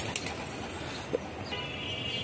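A Jalali pigeon takes off among racing pigeons, with a brief flutter of wings near the start over a soft outdoor background hiss and a faint bird call later.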